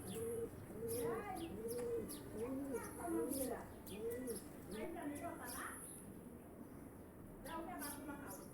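Domestic pigeons on a city rooftop coo repeatedly in soft, rolling phrases with a few chirps mixed in, fairly close and steady throughout, over faint background hum.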